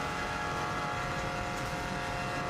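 A Subaru WRX STI race car drives a warm-up lap on the Isle of Man TT hillclimb course, its engine a steady, fairly faint rumble with road and wind noise and no talking.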